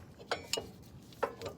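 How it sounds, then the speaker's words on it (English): A C-clamp being worked to compress the brake caliper pistons on a 2011-2018 Dodge Ram 1500-3500, a few sharp metallic clicks and creaks spaced apart, close and fairly faint. "So I'm gonna go in with the C-clamp."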